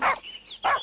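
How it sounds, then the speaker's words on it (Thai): A dog in a cartoon gives two short barks near a pile of old discarded tires, loud and close with a brief pause between them. "กำลังเห่าอะไรอยู่นะ"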